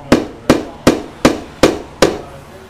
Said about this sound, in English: I'm not going to drive that nail all the way in case I have to adjust it.